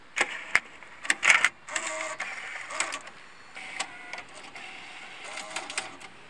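Cassette player rewinding a repaired, spliced tape, giving bursts of whirring, clicking and chattering mechanical noise that rise and fall in uneven spurts, fairly close and loud with no talk.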